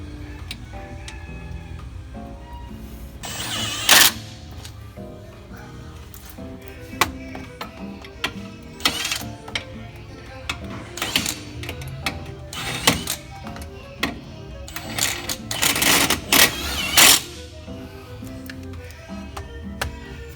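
Hand ratchet tightening a bolt on a GMC or Chevrolet truck's lower suspension, giving irregular bursts of clicking with occasional louder metallic clanks, close by in a quiet workshop.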